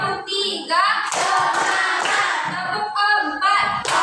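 A school class claps hands together in a counted focus-clap routine, with bursts of claps falling between stretches of children's voices chanting in unison, loud and near.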